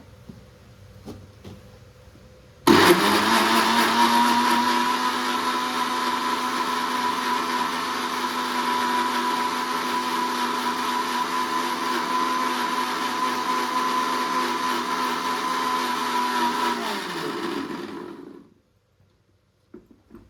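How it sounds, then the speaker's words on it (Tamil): A mixer grinder grinds tomatoes, starting abruptly and whirring loudly and steadily for about fifteen seconds, then winding down to silence. "தக்காளி அரைச்சி எடுத்துக்கலாங்க."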